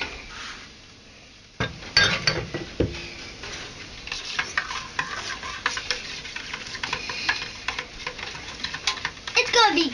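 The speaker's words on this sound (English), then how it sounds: "And stir it up." A spoon stirs brown sugar into a meatloaf mixture in a bowl, producing steady close scraping and clinking against the dish that follows an abrupt start, with people talking quietly over it.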